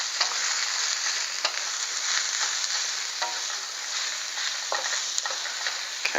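Cabbage and onions stir-fry in a hot pan, a steady close sizzle running throughout with light scraping and clatter from stirring, no voices.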